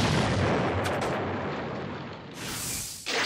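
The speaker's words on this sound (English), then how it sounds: "Fire style! Fireball Jutsu!" A Fireball Jutsu fire-style attack in the Naruto Ultimate Ninja Storm video game, a loud roaring blast that rumbles and fades, then a second burst of whooshing flame near the end.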